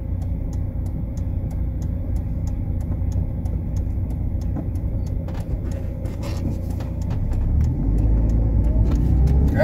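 A car drives along a road through Rosebank, Johannesburg, South Africa, its steady engine and road rumble filling the cabin, growing louder and deeper near the end as it accelerates.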